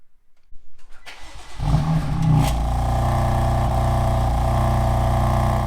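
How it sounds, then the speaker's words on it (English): A BMW F80 M3 cranks and fires up with a loud, close engine start that settles into a steady idle, a loose exhaust valve flap rattling through it. "it sounds like the exhaust is broken, it sounds like rattle, something is loose or broken."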